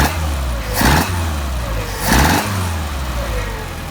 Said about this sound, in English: Now we're going to rev it up and make sure we don't have any backfire.